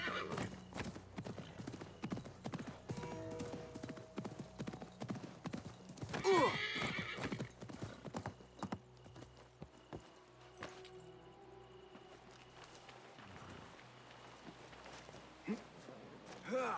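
Steady clip-clop of hooves trotting at an even pace in the video game Assassin's Creed, with a horse whinnying partway through and faint ambient game sounds underneath.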